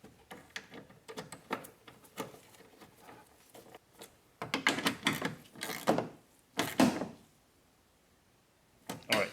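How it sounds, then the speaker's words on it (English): Two 8mm bolts are tightened down on a Honda Odyssey tail light, giving irregular clicks, ratchet bursts and plastic clatter that come in short clusters with quiet gaps between them. "so now we're gonna put the two 8mm bolts that hold the tail light down"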